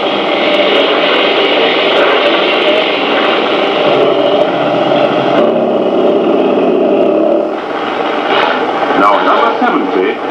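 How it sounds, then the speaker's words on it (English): A Datsun 2000 rally car pulls away from the start of the 1968 Monte Carlo Rallye at night. A loud, continuous engine drone with a rough, broadband roar holds steady, easing slightly toward the end. "There goes the first of the Datsuns"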